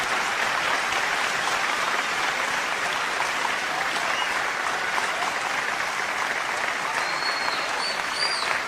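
Sustained applause from an audience at a Hindi-Urdu poetry recital (mushaira), a dense, steady wash of clapping that stays loud and even throughout, with no voices standing out.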